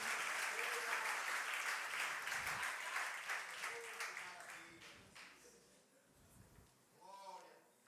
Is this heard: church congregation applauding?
yes